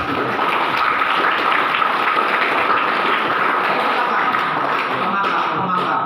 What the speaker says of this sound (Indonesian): Beri tepukan kepada Tunas Putri.